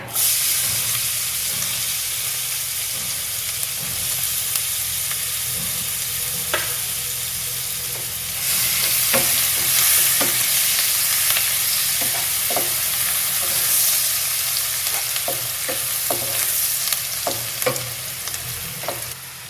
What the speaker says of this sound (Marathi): जिरं लालसर झालं की कांदा घालायचा बारीक चिरलेला.